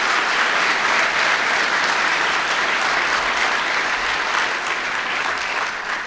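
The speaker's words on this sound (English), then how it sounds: "Let's have a round of applause for our patron sponsors." Dense, steady applause from an audience at an architecture design awards ceremony in St. Louis, loud and sustained throughout with no voices on top.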